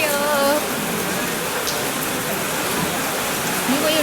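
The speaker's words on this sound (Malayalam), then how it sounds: "ഫുൾ മഴയാണ് ഗൈസ്" Heavy rain falls in a constant, dense hiss that pours down without letting up, with faint voices just audible beneath the downpour.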